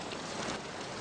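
Steady rain falls outdoors, an even continuous hiss of drops with no gaps or voices.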